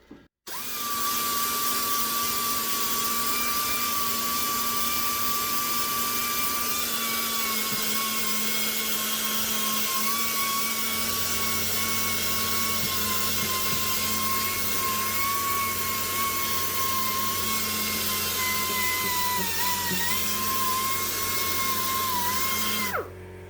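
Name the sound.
sander with sanding pad on car body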